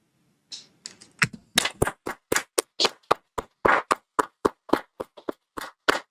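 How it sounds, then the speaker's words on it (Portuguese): An audience claps in a burst of separate, sharp hand claps at a steady rhythm, loud and close, with no talking over it. "Palmas, por favor."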